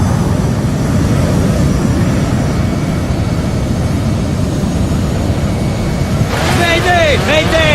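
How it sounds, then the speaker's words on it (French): A loud, steady roar of rushing wind fills the cockpit of British Airways Flight 5390 throughout, with a voice breaking in near the end. "le vacarme du vent dans le poste empêche le copilote d'entendre la réponse"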